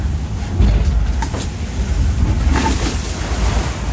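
Aboard a racing yacht near Cape Horn, rough ocean surf and wind-driven spray roar continuously with heavy low rumble and occasional hissing splashes, close and loud.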